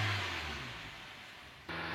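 A Nissan car engine runs at a raised idle of around 2000 to 3000 RPM during a tune-up warm-up, giving a steady, close mechanical roar with no talk.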